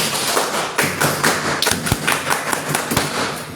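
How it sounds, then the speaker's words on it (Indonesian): Pramuka scouts at an elementary school clapping in a group rhythm, loud close thumping claps in an uneven patterned beat with short gaps between bursts. "Tepuk pramuka."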